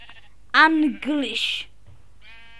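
Sheep bleating on an automatic sheep farm in a video game, two drawn-out wavering bleats close by, followed by a fainter tonal blip.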